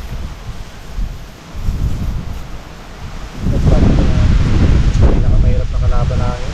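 Strong wind roars and buffets the microphone, growing louder halfway through, with people talking over it.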